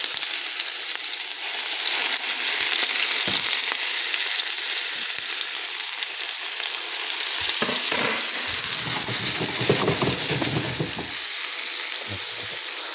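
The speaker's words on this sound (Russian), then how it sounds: "Жарю пельмени только на сливочном масле." Boiled dumplings frying in butter in a pan, a loud continuous sizzle with occasional stirring and shifting sounds, no voices.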